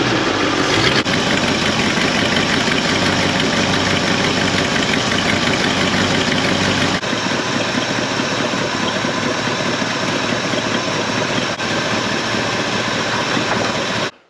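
A car engine runs at a steady idle during a manifold vacuum check, a loud continuous mid-pitched drone close to the microphone that holds evenly for the whole stretch before cutting off abruptly.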